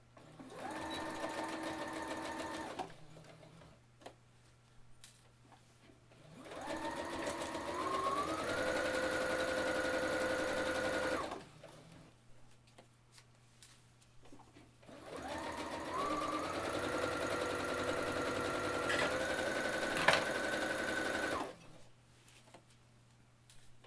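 An electric sewing machine runs straight-stitch seams on fabric for a wine bag in three sustained bursts, its motor whirring and rising in pitch as it speeds up, with quiet pauses between runs; close and with no voices.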